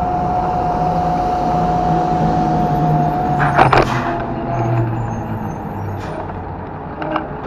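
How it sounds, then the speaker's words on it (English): A dump truck passing on the road heard from a motorbike, a loud engine rumble with a steady tone that breaks into a burst of clatter midway, then fades. "The dump truck."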